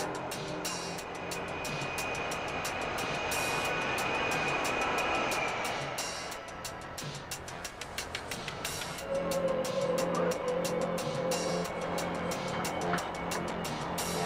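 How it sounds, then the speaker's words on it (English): An HTT-40 trainer aircraft comes in to land on the runway, a distant, sustained jet whine that swells gradually, with a steady rumble beneath and no speech. "HTT-40 is now positioned for a landing."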